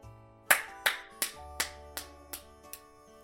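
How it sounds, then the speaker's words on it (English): Seven sharp slapping claps at a brisk, slightly uneven rhythm, each a crisp close smack that rings briefly, with no talking between them. "That and booty claps"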